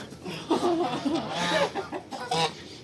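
A goose in a farmyard gives a string of short, nasal honking calls, fairly close and moderately loud, with brief pauses between them.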